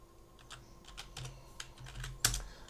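Keystrokes on a computer keyboard during Houdini 3D software work: a quiet, irregular run of light clicks with one sharper, louder tap near the end, no voices.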